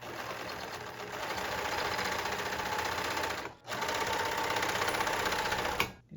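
A 1984 Baby Lock 418 serger sewing machine runs with a steady, loud mechanical whir and rapid stitching clatter, stopping briefly once midway before starting up again.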